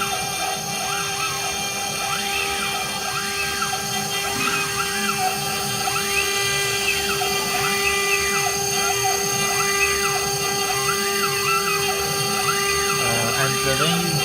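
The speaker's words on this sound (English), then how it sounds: "We can see the spindle starts to run" ARMADA CNC router with its spindle running, a steady high whine holding a constant pitch throughout, with a person talking over it.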